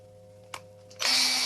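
A power drill turning a tap into a hole in a plastic game controller shell: a brief knock, then the motor whirs up loud and steady near the end of the short clip.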